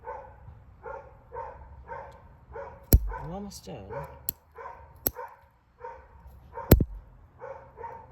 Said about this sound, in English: This dog has been barking for like an hour.